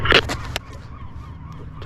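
Birds over a Long Island south shore bay give loud honking, goose-like calls in a couple of quick bursts at the start, then a quieter stretch with faint calls and one more call at the end.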